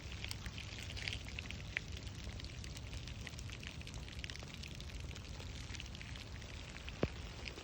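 Freezing rain in St. Petersburg tapping on an ice crust over asphalt, a faint, steady patter with scattered sharper ticks and a single louder click near the end.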